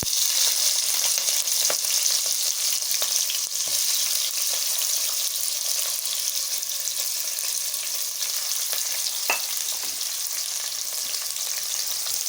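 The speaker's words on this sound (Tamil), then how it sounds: "பெரிய வெங்காயம் போட்டுக்கலாம்." Sliced large onions sizzle steadily in hot oil in a pan alongside green chillies, with occasional scraping stirs and clinks of a spoon, close and continuous with no talk.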